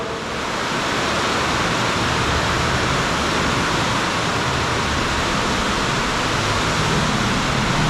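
Heavy typhoon rain pours down outside a house, a constant loud broadband roar with no breaks, steady from start to finish.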